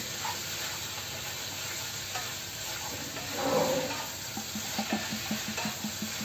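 Steady sizzling and bubbling of food cooking in a pan, with soft scraping strokes of stirring near the end.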